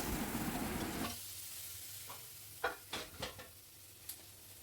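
A brief burst of sizzling as a hot-oil tempering is poured into dal gives way to quiet crackles and a few sharp spatters and pops.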